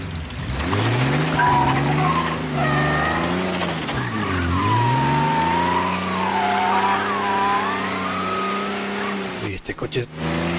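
A car skids across a wet road in rain in the game Mafia: Definitive Edition, the engine droning and wavering in pitch as tires slide, with someone talking over it and a few sharp thumps near the end.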